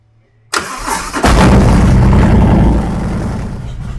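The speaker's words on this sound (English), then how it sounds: "Fire it up and do our first idle tune." A 2020 Harley-Davidson Street Glide with a 128-inch engine and an intake leak cranks briefly, then fires and catches into a loud, close, steady idle that softens slightly, with no talking.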